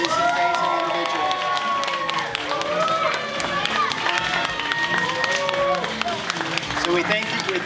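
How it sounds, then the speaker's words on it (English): An audience applauds after a martial arts demonstration at a community culture festival: a dense, steady wash of clapping with crowd cheering and voices mixed in, sustained at full strength throughout. "One more round of applause for these amazing individuals."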